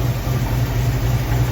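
A 1965 Ford Mustang engine idles steadily just after exhaust repair, a continuous low rumble with a regular throb, close and moderately loud with no talking.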